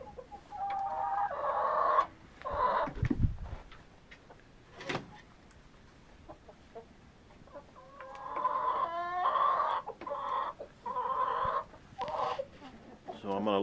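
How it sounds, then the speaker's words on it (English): Chickens cluck and a rooster crows in a backyard flock, intermittent bursts of fowl calls at moderate distance with quiet gaps between them. "usually the males will crow"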